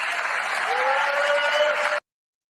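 An audience applauds in sustained, fairly loud clapping that ends abruptly, with a faint voice or tone threading underneath before the sound cuts to silence.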